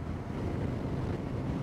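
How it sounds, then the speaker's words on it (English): Steady wind buffets the microphone as an adventure motorcycle rolls along the Clutha river valley in central Otago, a constant low roar with no talking. "A little bit windy"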